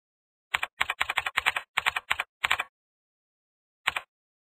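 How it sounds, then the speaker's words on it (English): Keys clack on a computer keyboard in a quick burst of about a dozen crisp strokes, then a pause and one last tap, close and isolated against silence. "Here you can type whatever you want to appear in the start menu."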